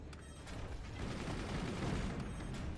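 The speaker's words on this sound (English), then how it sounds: "Another bait mortar." Mortar fire in the artillery strategy game Forts sounds as a faint, dense rattle of repeated launches and impacts building over a few seconds, with no talk.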